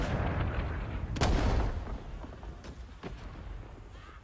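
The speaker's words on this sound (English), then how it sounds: "So that's a hand grenade." Hand grenade blasts from Rising Storm 2: Vietnam: a deep, rumbling boom with a sharp crack near the middle, followed by a fainter distant thump, over continuous low battle rumble.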